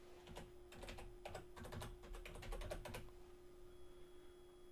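Rapid typing on a computer keyboard, a dense run of close, crisp keystrokes for about three seconds that then stops, leaving a steady electrical hum underneath.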